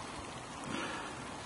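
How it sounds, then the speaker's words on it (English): Rain beginning to fall outdoors at a farm centre reservoir, a steady soft hiss of drops throughout with no voices. "It's now starting to rain."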